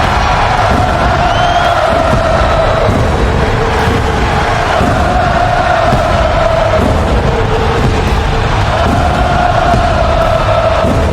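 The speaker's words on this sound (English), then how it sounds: "the crowd singing along with the song of Seth Rollins here tonight on Raw" Arena crowd from the WWE 2K25 wrestling video game singing along to a wrestler's entrance song during a Raw show, a dense, steady roar of many voices with a sustained chant-like tone throughout.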